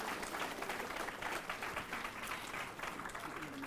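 Audience applause at a school prize ceremony for a fifth-grade consolation prize winner, a steady, dense wash of many hands clapping throughout, fairly distant, with a faint murmur beneath.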